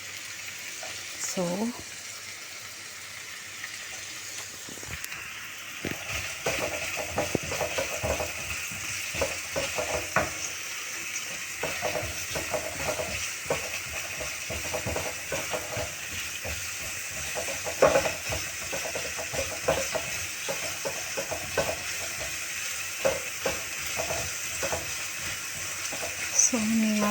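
Garlic and onion sizzle in hot oil in a pan while being stirred, steady frying hiss broken by frequent scraping and clacking from the spoon, close and fairly loud, with a brief word spoken early on.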